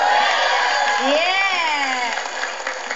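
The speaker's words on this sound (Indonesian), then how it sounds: "Tepuk tangan dong." Cheering and clapping from a student audience at a televised quiz competition, with loud crowd noise and rising excited whoops and shouts over the top.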